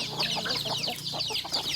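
Chickens clucking in short, busy bursts, several birds overlapping at moderate volume against a steady background hum.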